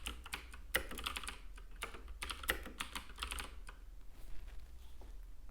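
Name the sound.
typing on a computer keyboard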